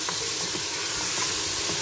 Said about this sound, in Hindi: अब हम गोश्त को फ्राई कर लेंगे।